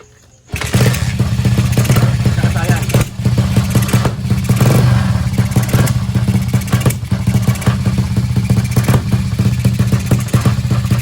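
A battery-operated skeleton motorcycle engine running on 12 volts with a misfiring, uneven beat, loud and close throughout after a brief quiet start, with a steady low drone and sputtering clatter.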